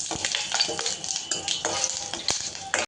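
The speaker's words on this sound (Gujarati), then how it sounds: "પછી આ રીતે એને વઘારી થોડું હલાવી દેવાનું" Whole dried chili and cloves temper in hot oil over a low flame, sizzling densely while a spoon stirs and scrapes the pan in quick, irregular strokes, close and fairly loud.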